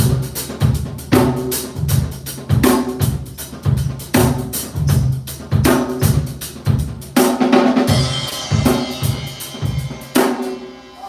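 Live drum kit played with the kick landing on the snare in the second round: a heavy, steady groove of kicks, snares and cymbals that builds into a crash-filled ending, loud and up close.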